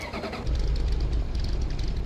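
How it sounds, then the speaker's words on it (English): A truck engine, a small VW bus, starts up in Farming Simulator 15: a short cranking burst gives way to a low, steady idle rumble, loud and near, with no talk over it. "Good engine note there."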